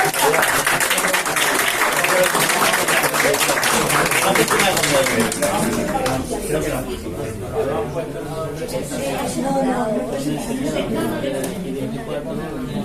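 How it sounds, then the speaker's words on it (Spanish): Audience applause for a speaker named Jacobo at a talk event in Manises, dense clapping loud and steady for the first half, then thinning while chatter and voices rise over it. "Damos un aplauso a Jacobo."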